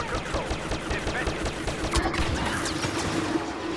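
Rapid blaster cannon fire in the Star Wars Battlefront beta video game, a dense continuous barrage of shots with crashing impacts and a steady tone running underneath, loud throughout.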